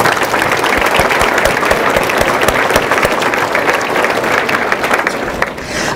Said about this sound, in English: can we give them a round of applause for their work?